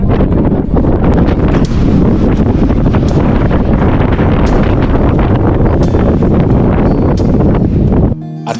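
Strong cold wind roars continuously and loudly at the summit of Mount Batulao, Philippines, buffeting the microphone with heavy rumbling gusts until it cuts off abruptly.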